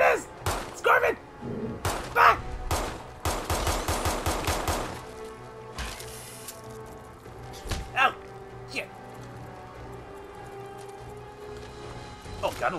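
Rapid gunfire aimed at a scorpion in the video game Fallout 4, with bursts of shots crowded into the first five seconds and scattered single shots after, loud and close, while a player talks over the action.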